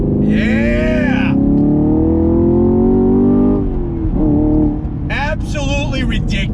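Chevrolet Camaro SS 1LE engine pulling hard under throttle, a loud close rising drone that climbs steadily then shifts pitch, with an excited voice shouting over it.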